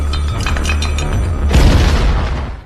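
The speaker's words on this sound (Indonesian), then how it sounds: "para perampok yang tak mau mengambil resiko segera bergegas pergi, bahkan sempat membuat ledakan sehingga melukai banyak orang" A deep boom bursts out midway as robbers set off an explosion in a film scene, following a busy stretch of sound and then trailing off quickly.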